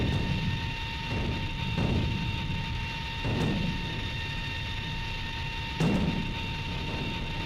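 Anti-aircraft guns firing from the ground in the Strike Fighters 2 Vietnam-era flight game: several spaced, booming low thumps over a steady engine drone, moderately loud, no talking.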